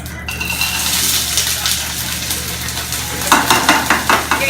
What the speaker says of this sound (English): Once it's ready, you're going to add your vegetables into the pan.